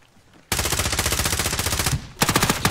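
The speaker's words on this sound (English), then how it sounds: "taking fire over here" Video game gunfire, with loud, dense bursts of rapid automatic shots in two long strings separated by a brief gap, close and dominant.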